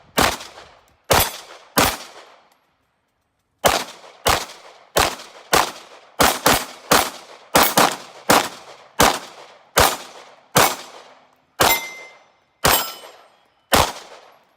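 About eighteen loud, close gunshots are fired singly at an irregular pace, sometimes in quick pairs, each with a sharp crack and a ringing tail, with a longer gap early on.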